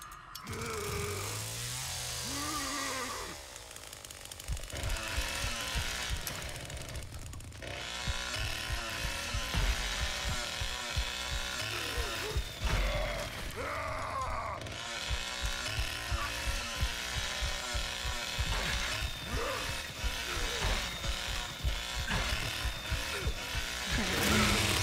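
Chainsaw roaring in a video game, a loud buzzing engine that revs and surges repeatedly, with brief dips and a stall-like drop near the start amid other game noise.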